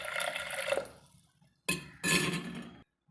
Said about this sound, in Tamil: சேர்த்துட்டு ஒரு 1/2 லிட்டர் அளவுக்கு தண்ணி நான் சேர்த்துக்கிறேங்க.